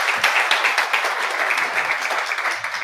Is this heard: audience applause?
yes